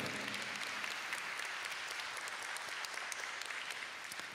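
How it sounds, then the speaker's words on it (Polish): Audience applause at a band's 15th-anniversary jubilee concert, a steady sustained patter of many clapping hands, fairly quiet and even throughout with no talk over it. "Ja proponuję wielkie brawa dla Karola, męża, dla Kasi"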